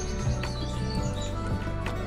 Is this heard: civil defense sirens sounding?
no